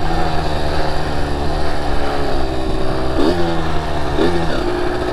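A Kawasaki KX85 two-stroke dirt bike engine buzzes loudly and steadily up close, with its pitch rising and falling in a couple of quick revs near the end.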